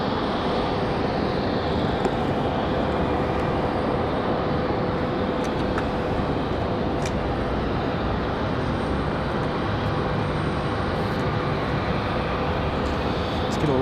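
An airliner departs Raleigh-Durham International Airport, its engines a loud, steady broadband roar that holds for the whole stretch with no letup.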